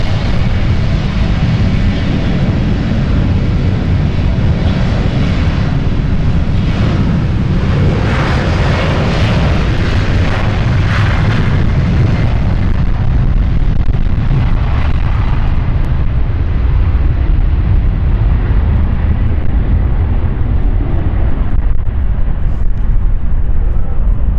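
A Dusseldorf-bound airliner takes off at London City and climbs steeply, its jet engines roaring loud and continuous for the whole stretch, the broad rumble slowly thinning as the aircraft pulls away.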